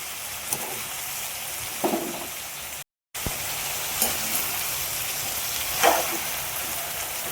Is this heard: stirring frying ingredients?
yes